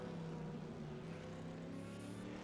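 GT1-class race cars rolling down pit lane in the iRacing sim, a faint, steady engine drone with a whining tone heard from a distance and never rising.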